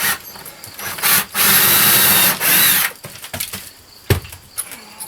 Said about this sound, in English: it's good to have a drill and a power driver now